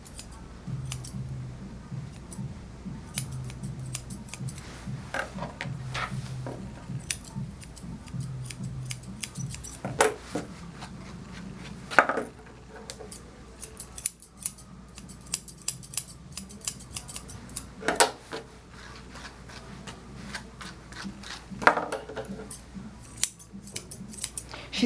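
Grooming scissors snipping through a matted schnauzer's fur, many quick close metallic snips in irregular bursts over a long stretch, with no voices.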